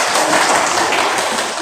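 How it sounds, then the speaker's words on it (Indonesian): Classroom applause for a student discussion group in an Indonesian economics lesson, a brief loud burst of many hands clapping close by, fading slightly at the end. "silakan ke belakang dan kita beri tepuk tangan untuk"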